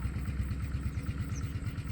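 A diesel locomotive engine idles with a low, steady, rhythmic throb, loud and continuous with no voices.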